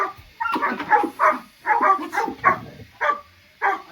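A dog barks repeatedly during a training session among other dogs, around ten sharp, close barks in quick irregular bursts with brief pauses between them.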